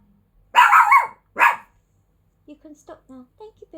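Pet dogs bark indoors at home, two loud bursts near the start, then someone speaks in short phrases once the barking stops.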